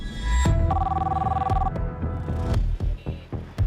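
A telephone rings loudly during a phone call, a sustained electronic bell tone with short ringing bursts and mechanical clicks toward the end, heard alone without speech.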